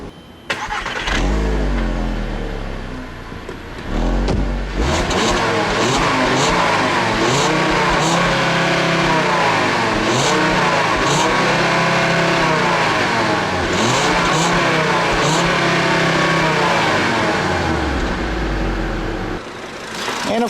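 A 2.5-liter five-cylinder engine in a 2008 Volkswagen Rabbit S manual fires up loudly through its exhaust. It then revs repeatedly, each rise and fall swelling and easing back, before settling to idle near the end.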